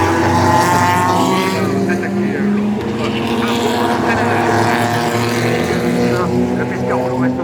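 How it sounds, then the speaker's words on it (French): A 2001 Porsche race car roars past at the Le Mans Classic, a loud, continuous engine howl with shifting pitch under constant French race commentary. "Simon Evans avec la Porsche 296 RS de 2001. On sort de cette chicane"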